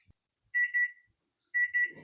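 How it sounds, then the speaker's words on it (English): Kitchen timer going off after 4 minutes while pancakes cook, two short clear bursts of rapid electronic beeping about a second apart, fairly faint in a quiet room. "And there's the timer at 4 minutes"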